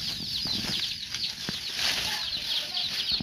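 Young chicks chirping near a house during a heavy rain storm, a dense layer of high peeping calls running continuously and fairly close, over a bed of rain noise.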